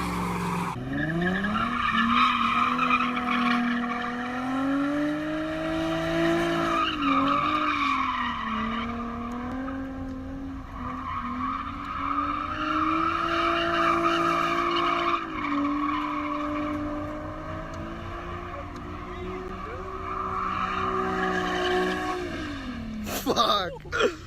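A car with a 350 engine doing a burnout and donuts, the revving engine roaring loud and close as its pitch rises and falls, with the tires squealing and skidding almost the whole time.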